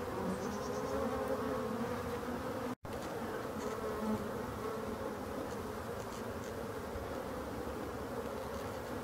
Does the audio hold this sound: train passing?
no